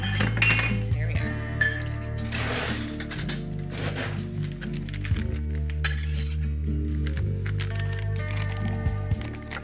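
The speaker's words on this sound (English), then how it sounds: "So I'll spoon that out just into a measuring cup." Thick pesto being spooned into a measuring cup, with sharp clinks and scrapes of a spoon against the cup and bowl, close and irregular, while a person talks in the background.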